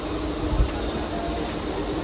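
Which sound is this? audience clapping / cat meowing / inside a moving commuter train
inside a moving commuter train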